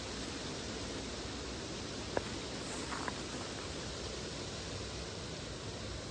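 Heavy rain falls outside a greenhouse, a steady, even hiss of dense drumming on the roof and walls that continues without a break, with a couple of faint clicks near the middle.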